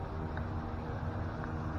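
An electric fan runs steadily in a hot, humid Florida garage, giving a continuous broadband whoosh and low rumble with no breaks, loud and close to the microphone.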